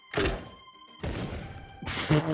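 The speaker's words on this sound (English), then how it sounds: "it has a built-in nade launcher, dude" An assault rifle's built-in grenade launcher firing in the video game Into the Radius, three heavy hollow thunks about a second apart, each with a sharp attack and short ringing tail.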